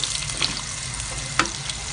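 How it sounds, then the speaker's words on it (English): Ginger, garlic and onion frying in hot oil give a steady close sizzle throughout, with a few brief clinks and scrapes rising above the hiss. "panaskan minyak, and then put in your ginger, your garlic, your onion"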